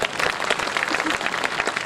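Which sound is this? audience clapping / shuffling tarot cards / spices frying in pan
audience clapping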